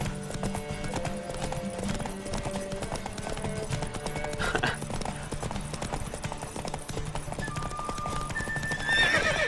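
Roach, Geralt's horse in The Witcher 3, trotting with a fast, steady clip-clop of hooves, then letting out a high whinny near the end, with some speech over it.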